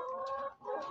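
Chicken clucking close by, a short run of throaty, nasal clucks with one brief dip in the middle, heard on its own with no talking.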